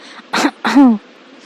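Two short, close coughs, the second one throatier and a little longer, with a rough voiced edge at the end.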